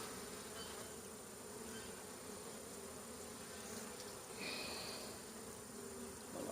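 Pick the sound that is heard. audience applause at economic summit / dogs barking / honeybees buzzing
honeybees buzzing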